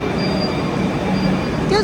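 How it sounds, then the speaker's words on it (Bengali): A metro train stands at a platform on the New Garia to Ruby line, giving a steady low rumble and hum of a stationary train with faint tonal whines, close by, ending in a brief higher squeal. "এখানে কিন্তু মেট্রো অলরেডি দাঁড়িয়ে আছে"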